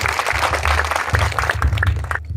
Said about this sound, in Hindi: एक बार फिर जोरदार तालियां हो जाए।